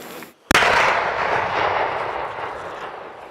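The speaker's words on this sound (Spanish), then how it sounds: "Las explosiones se dieron casi simultáneamente en las 26 zonas" Controlled detonation of FARC guerrilla explosives, set off almost simultaneously across concentration zones under UN observer supervision: a sudden loud blast after a brief lull, followed by a sustained roaring rumble that slowly fades over several seconds, with no voices.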